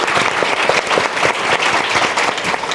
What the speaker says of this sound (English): It's a time for us to do a bit of a clap.